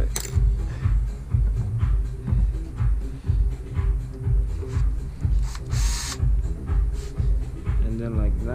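A power drill drives 14 cm screws through boards for a DIY balcony roof, its motor whirring steadily in a repeated pulsing rhythm with faint rattling and handling knocks, close to the listener, no talking.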